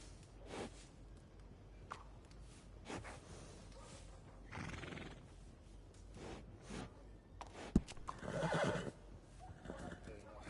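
A horse whinnies in Red Dead Redemption 2, with clip-clop hooves and a few soft snorts around it; the neigh swells loudest near the end, over quiet game ambience.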